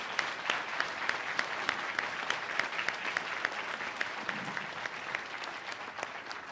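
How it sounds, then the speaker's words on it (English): An audience at a municipal candidate forum in Jasper claps steadily in a sustained round of applause, an even patter of many hands filling the room with no speech over it. "I would like to ask for a round of applause and congratulate all candidates"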